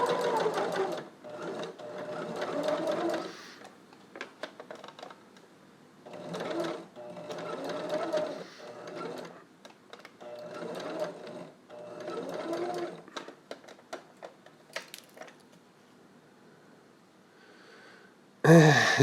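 A sewing machine bar tacks a seam at the bottom of the neck on a Spider-Man test mask, running in repeated stitching bursts with short pauses, close and clear, without any talking.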